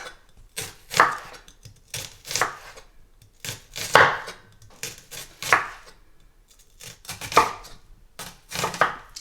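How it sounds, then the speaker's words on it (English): A knife chops ingredients finely on a cutting board for a Mughlai chicken curry, producing rapid bursts of crisp knocks that come in repeated clusters with brief pauses between them. No one speaks. "So just chop them as finely as possible."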